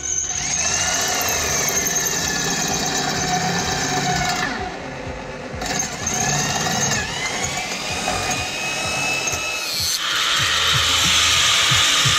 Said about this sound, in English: Have a shot with a drill.